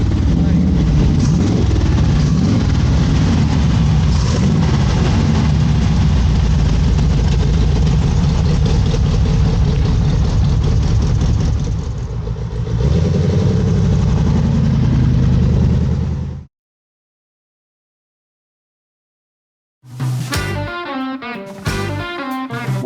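A 1933 Chevy sedan hot rod at a street rodding car show idles with a loud, close, steady low rumble for about sixteen seconds before cutting off abruptly; after a brief silence, a person speaks.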